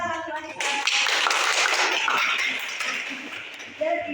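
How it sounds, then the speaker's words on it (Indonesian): A short burst of group clapping in a classroom teaching practice session, dense and close, lasting a few seconds between bits of speech. "Beri tepuk tangan Marisa."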